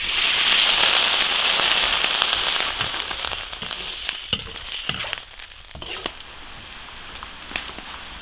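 Water poured into a hot wok of fried chili spices for braised pork tails and tripe, giving a loud burst of hissing sizzle that gradually settles into quieter bubbling with occasional clinks.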